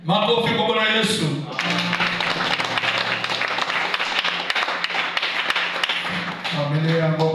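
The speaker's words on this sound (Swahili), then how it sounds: "Makofi kwa Bwana Yesu." Church congregation applauding in a broad, steady wash of clapping that runs for several seconds, with a voice speaking before and after it.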